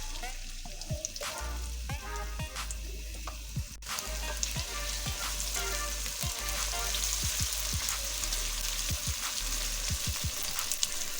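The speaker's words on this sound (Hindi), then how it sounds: "प्याज को लाइट गोल्डन करेंगे।" Sliced onions frying in hot oil in a pan for an aloo matar gajar mixed vegetable dish, a steady close sizzle with occasional stirring clicks and scrapes, and no talking.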